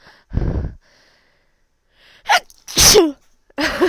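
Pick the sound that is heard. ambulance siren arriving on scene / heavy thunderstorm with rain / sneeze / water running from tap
sneeze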